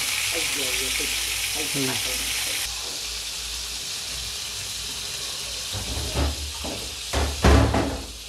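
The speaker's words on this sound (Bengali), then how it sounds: "মাছ মোটামুটি এক সাইড একটু ভাজা হয়ে গেছে" Koi fish sizzling as it fries in a pan, a steady frying hiss with a few clanks and knocks of utensils toward the end; a voice murmurs briefly early on.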